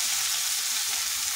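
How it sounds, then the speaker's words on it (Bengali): Spinach stirred in a pan over low heat gives a steady, soft, even sizzle that runs without a break, with no distinct stirring strokes standing out. "আঁচটা স্লো করে এইভাবে একটু মিশিয়ে নিচ্ছি"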